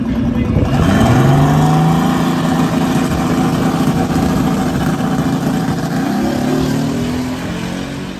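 A Nissan Z running a manual boost controller accelerates hard on a race track, its engine droning loud and steady with a rising pitch that sweeps up through the gears, close and continuous throughout.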